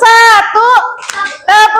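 Elementary school pupils in a Bandung classroom clap in a class clapping routine. Their young voices chant together in unison over the hand claps, in short loud bursts with brief pauses between.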